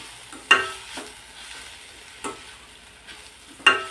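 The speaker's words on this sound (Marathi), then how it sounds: "आता यामध्ये आपण चवीनुसार मीठ टाकून घेऊ आणि पुन्हा एकदा भाजी मिक्स करून घेऊ." Ghol (purslane) greens are stirred in a frying pan with salt added, giving a few sharp spatula scrapes against the pan over a soft, steady sizzle, close and alone without talk.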